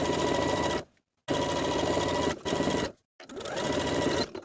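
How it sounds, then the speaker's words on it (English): A sewing machine edge-stitches close to the inner fold of a blouse hem, running in three loud, steady bursts separated by short silent pauses. "I'll edge stitch close to the upper inner fold all the way around."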